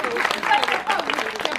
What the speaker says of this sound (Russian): Аплодисменты, девочки.